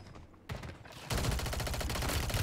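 Sustained automatic gunfire in Warzone, sparse shots at first then a dense continuous rattling barrage, loud and close with no talk.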